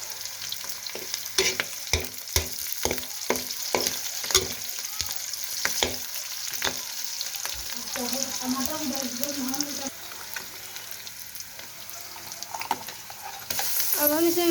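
Okra fries and is stirred in a pan as it turns light brown, a dense, continuous sizzle punctuated by a run of regular spoon scrapes and clicks, then bubbling hiss with a voice briefly audible underneath.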